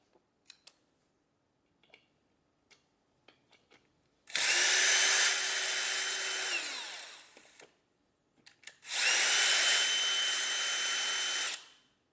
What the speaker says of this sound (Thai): นี่คือโหมดถอนสกรูนะครับ